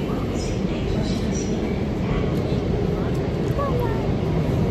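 A subway train rides along with a steady, loud rumble and rail noise filling the whole stretch, with faint squeals on top.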